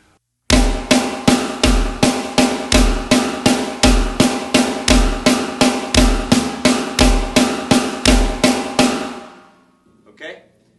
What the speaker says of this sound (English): eighth note triplets sound like this.